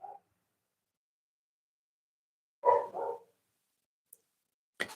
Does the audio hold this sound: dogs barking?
yes